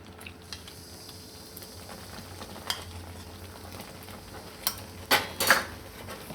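Milk poured into a roasting adadiya mixture in a pan, a soft steady sizzle with sharp bursts of hissing and clattering spatula strokes near the end, no talking.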